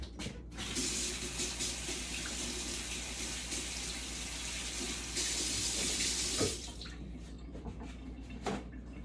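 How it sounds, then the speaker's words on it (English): Tap water runs steadily into a kitchen sink while hands are washed, a continuous close hiss with splashing that grows brighter midway, then ends with a few drips and handling knocks. "I'm gonna wash my hands."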